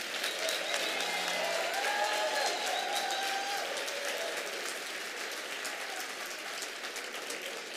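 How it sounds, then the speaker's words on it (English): A keynote audience in Albany, New York applauds in a continuous, dense wash of clapping that stays strong for the whole stretch and eases slightly toward the end. "One more big round of applause"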